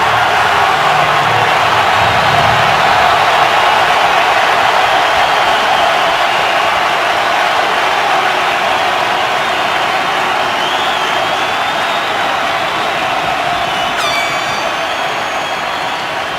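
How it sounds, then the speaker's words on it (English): Steady, roaring stadium crowd at an NFL game between the 49ers and Giants, fans stirred up by Beckham; dense broadband cheering holds at an even loudness throughout, with a faint whistle-like tone near the end. "Beckham getting the crowd stirred up."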